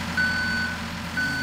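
Steady electronic reversing beeps from a truck in the Roblox video game, two long sustained tones separated by a short pause, loud and clear with no talking.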